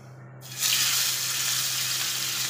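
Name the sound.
pangas fish frying in oil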